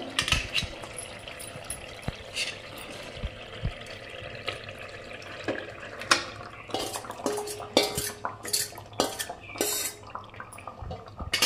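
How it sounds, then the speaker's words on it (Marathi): Marinated chicken goes into a masala in a pan and is stirred, with irregular clanks and scrapes of a spoon against metal and some wet, sloshing sounds, close and fairly loud. "आता आपण यात मुरलेलं चिकन टाकून घेऊया।"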